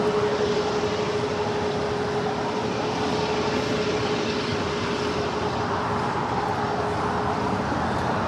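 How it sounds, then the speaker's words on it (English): An Air France heavy jet airliner arriving from Paris lands at LAX, its engine roar broad and steady, fairly loud and sustained, with a faint whine running underneath. "That was Air France Flight 66 coming in from Paris"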